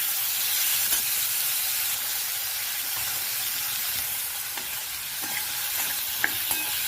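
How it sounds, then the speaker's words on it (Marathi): Boiled potato, cauliflower and French beans being stir-fried in a pan for a dry mixed vegetable dish: steady close sizzling and hissing with occasional soft scrapes of stirring, no voices. "बटाटा आणि आपला हा जो फ्लावर आहे आम्ही थोडासा बॉईल करून घेतला होता तो ह्यात ॲड करतो आणि मला छानपैकी आपण आता परतून घेऊया"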